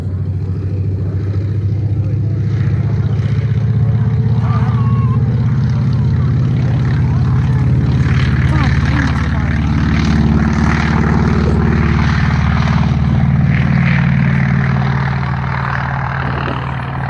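A Douglas SBD propeller warplane flies past at an outdoor air show, its steady loud engine drone filling the scene and swelling slightly mid-pass before easing off, with no talk over it.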